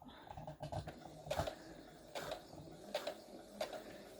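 A sewing machine stitches a stretchy crochet tutu top in short, quiet bursts of mechanical clatter separated by pauses, close and faint.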